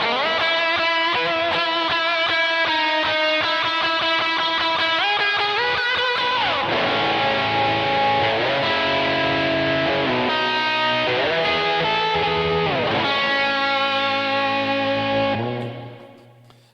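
A distorted electric guitar plays a melodic lead line with sustained notes and a reverb wash, then fades out at the end.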